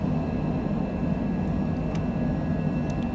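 A Cessna Citation Longitude business jet climbing out of Santa Fe, New Mexico, heard from inside as a steady, broad engine and airflow roar with a low hum, constant and unbroken throughout.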